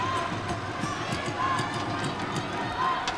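A volleyball arena crowd roars and cheers in a dense, continuous wash of noise with rhythmic pulsing, while a voice talks over it.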